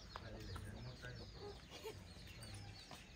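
Chickens on a farm cluck faintly in the distance, with scattered soft bird calls under a quiet outdoor background.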